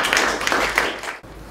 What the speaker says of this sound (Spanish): Un aplauso para Estefanía